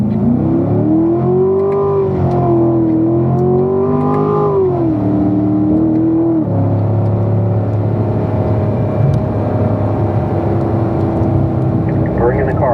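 A car on the Spring Mountain race track revs up with a rising and falling engine drone, then settles into a steady loud rumble as it rolls on, close and continuous.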